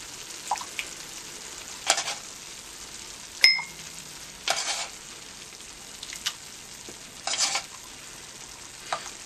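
Ground meat frying in a pan as the rendered fat is scooped out, with soft intermittent scraping and stirring bursts over a faint steady sizzle, close and fairly quiet.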